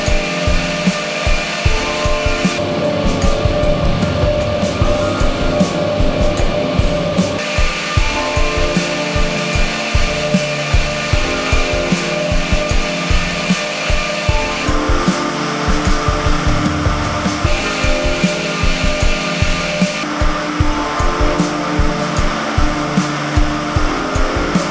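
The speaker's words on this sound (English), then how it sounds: "The bale plucker machine strips small tufts of fiber from each bale and sucks the fibers, directing them to the blowroom machine through pipes." A bale plucker machine in a cotton spinning mill runs with a loud, steady mechanical whir and airy suction roar, with rhythmic clattering pulses throughout and no voices.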